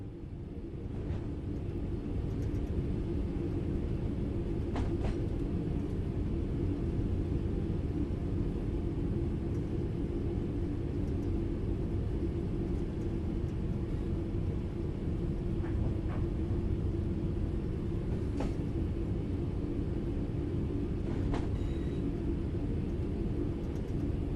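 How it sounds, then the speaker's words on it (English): Train coasting on level ground in Train Sim World, a constant low rumble with steady wheel and track noise and a few faint clicks, unchanging for the whole stretch with no voices. "The train will then coast on level ground, and the train will only slow down very gradually."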